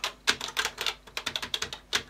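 Keys on an old secondhand computer keyboard are pressed in a quick, uneven burst of sharp, close clacks. Some strokes come in rapid pairs, with no voices.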